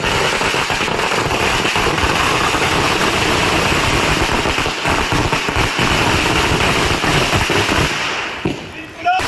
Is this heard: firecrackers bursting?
yes